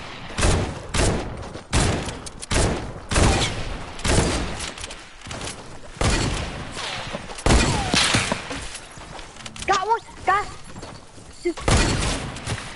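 Rapid bursts of gunfire from a Fortnite match crack in dense clusters across the whole stretch, loud and close, with brief gaps between volleys and a few short electronic game tones near the end.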